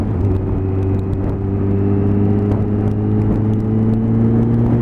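A motorbike engine pulls away on a Sunday ride, a loud, close, steady droning rumble that holds an even pitch throughout, with faint ticks over the top.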